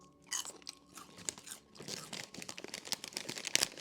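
Steak-flavored Lay's potato chips crunch in a series of close, crisp bites and chews, alone and fairly quiet, with irregular crackling bursts throughout.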